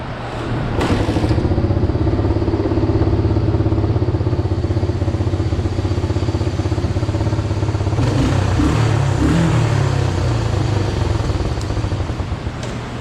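A Honda Fourtrax two-wheel-drive ATV, just revived after carburetor work, idles steadily nearby with a continuous low engine chug, a few brief clattering thumps partway through.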